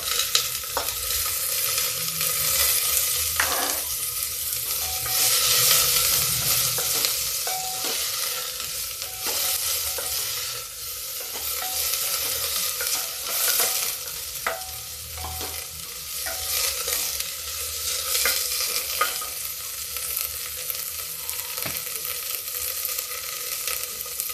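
Garlic and onions sizzle and crackle steadily in a hot pan, with occasional scraping and stirring clatter over the constant frying hiss.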